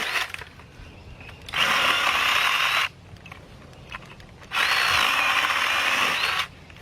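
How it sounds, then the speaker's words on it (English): A mini chainsaw trimmer cuts through a branch in two loud, high-pitched whining bursts of about one and a half seconds each, separated by a quieter pause. "This is such a good trimmer."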